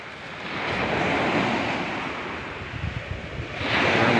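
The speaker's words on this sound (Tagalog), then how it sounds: "yan maalon dagat to" Rough, choppy sea breaks steadily against the shore where fishing boats sit idle, a continuous broadband wash of surf with gusting wind buffeting the microphone, swelling louder toward the end.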